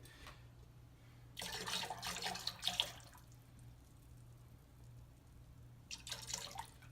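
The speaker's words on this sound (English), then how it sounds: "pour the vanilla extract in" Vanilla extract is poured into a toilet during a septic repair, with two splashing, trickling bursts of liquid, one longer and one brief, over a low steady hum.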